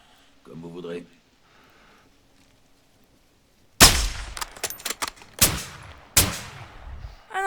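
Gunfire in the Call of Duty MW2 campaign, a burst of sharp, loud shots after near silence, followed by several more scattered cracks and clangs, with a brief voice before the shooting.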